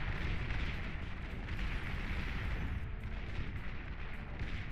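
Artillery fire in the strategy game Beyond All Reason forms a dense, continuous rumble of overlapping booms and bursts, loud throughout.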